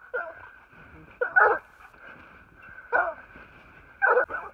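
Hunting dogs give four sharp, distinct barks at a treed mountain lion, spaced about a second apart and heard from a moderate distance in otherwise quiet surroundings.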